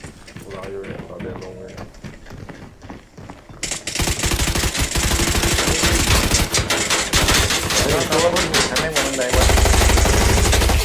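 An RPK machine gun fires in the Arena Breakout shooter game, loud rapid automatic bursts that build into sustained continuous fire after a few scattered shots, with a voice talking over the gunfire.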